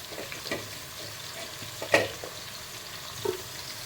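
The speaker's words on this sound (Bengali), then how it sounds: "আলু দিয়ে দিয়েছি, এবার এটাকে একটু ঘাঁটবো" Potatoes fry quietly in a pan for gota ranna, a low steady sizzle with a few soft stirring scrapes and one sharper clink near the middle.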